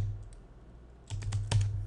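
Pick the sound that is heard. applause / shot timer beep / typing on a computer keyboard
typing on a computer keyboard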